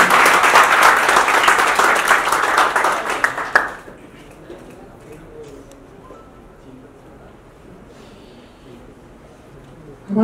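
A crowd at a Bhojpuri film muhurat ceremony in Varanasi applauds loudly with dense, sustained clapping for about three and a half seconds before it cuts off to quiet room noise, with faint distant murmurs.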